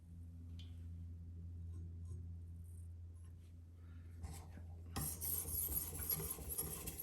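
Steel knife blade rasping across a 1000 grit TF Prof whetstone; steady scraping strokes that are faint at first, then louder and denser in the final seconds, with no talk.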